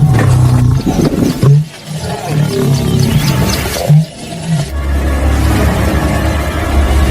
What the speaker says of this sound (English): the lions accepted the new king with a thunderous roar